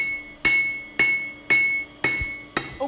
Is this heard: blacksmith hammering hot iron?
yes